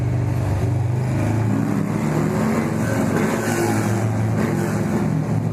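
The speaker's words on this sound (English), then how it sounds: "I love this tunnel right here for the exhaust note" A Harley-Davidson Sportster 883 motorcycle exhaust rumbles loud and steady inside a tunnel, a dense, continuous, echoing drone with no voices over it.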